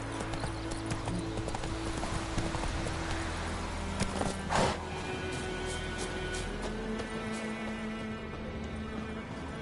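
Hooves of the horse Roach clip-clop steadily throughout in The Witcher video game, a continuous rhythmic trot set against a game ambience with a low musical drone.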